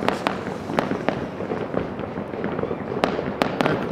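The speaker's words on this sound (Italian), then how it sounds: "Mezzanotte adesso e si alzano i fuochi" Fireworks bursting over a city at midnight on New Year's Eve, seen from a rooftop terrace in Lamezia Terme; sharp cracks and booms, some close and loud, others distant, fire irregularly over a steady crackling rumble, with no talk.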